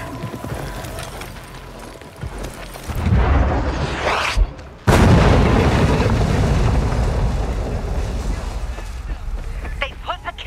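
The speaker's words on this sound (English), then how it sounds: "They put a cannon on a nearby building." In Dying Light 2, a heavy cannon shell slams into a building with a sudden loud, deep boom, followed by rumbling debris and lingering combat noise, with voices nearby.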